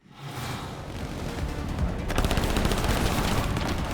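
Gunfire in the video game Split Fiction rattles in a dense, continuous burst, building in loudness and staying heavy to the end.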